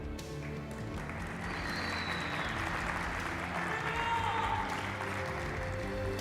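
A live audience at the Gamers8 Tekken 7 Nations Cup esports event applauds and cheers as a national team is welcomed on stage, a sustained, moderately loud wash of clapping and crowd noise with a faint tonal whistle-like sound over it.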